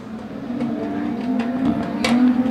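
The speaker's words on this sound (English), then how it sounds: "As all 4 tyres are up, but definitely not sounding the best, is Jones's EL Falcon." A Ford EL Falcon production sedan race car runs rough at the track. Its engine gives a steady, buzzing drone that grows louder and slightly higher toward the end, with a few sharp bursts over the rumble.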